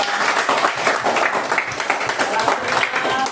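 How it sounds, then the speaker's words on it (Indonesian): Fourth-grade pupils in an Indonesian elementary school classroom clap for a student group, brisk, dense applause filling the room at close range, with a voice audible through it. "Ya, tepuk tangan untuk kelompok 2."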